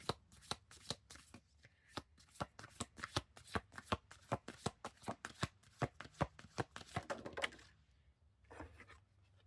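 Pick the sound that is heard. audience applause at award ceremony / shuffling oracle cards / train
shuffling oracle cards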